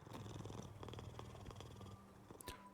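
A cat purrs in the video game Hades 2 with a steady, low rumbling texture that runs continuously and fairly close. Faint game sounds sit under it, and one brief higher chirp comes near the end.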